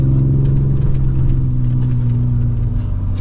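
Inside a 2024 Ford Ranger Raptor driving across sand dunes, a deep steady engine drone and cabin rumble fill the space, loud and continuous with no break.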